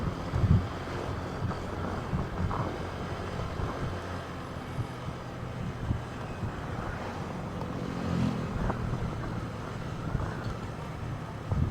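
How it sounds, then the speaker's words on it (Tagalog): Strong wind buffets the microphone during a city drive in Iloilo, giving a constant loud rumbling roar with gusty swells throughout and no talk. "Medyo may kalakasan yung hangin."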